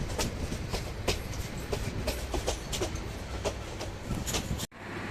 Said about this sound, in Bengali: আমরা এখন গাইবান্ধা রেলওয়ে স্টেশনে